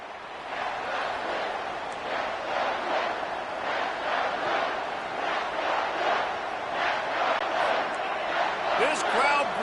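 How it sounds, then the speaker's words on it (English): A college football stadium crowd roars steadily at a Michigan Wolverines game, a broad sustained cheer with surging swells, heard from a distance under broadcast commentary. "This crowd bringing the energy and noise early."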